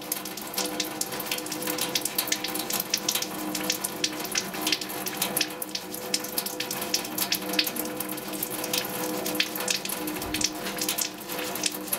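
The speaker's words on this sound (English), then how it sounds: "Use the scrub brush or sponge to scrub each hand." Hands are scrubbed with a brush under a running tap during a surgical hand scrub, giving a continuous loud rush of water with dense bristly scratching layered throughout.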